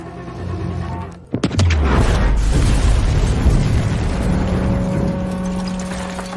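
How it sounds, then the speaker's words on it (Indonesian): A film-effect bomb goes off in a corridor with a sharp, loud blast, followed by a long roaring rumble of debris and sustained noise. "Brandon meminta Diaz untuk meledakkan bom yang terdapat di lorong jalan menuju ke ruangannya."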